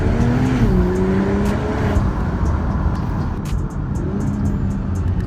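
BMW X3 M40i engine, stock before an intake upgrade, droning and revving steadily with pitch rising and falling as the car drives, heard loud and close from inside the cabin without talk.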